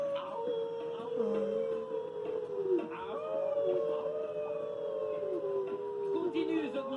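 A person imitates a wolf howl, making long wavering, rising and falling howls close up, with several voices seeming to join in overlapping.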